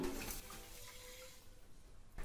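Water splashes and trickles steadily into a metal pan (kadhai) on a gas stove, a continuous pouring sound with a soft hollow ring, fairly close.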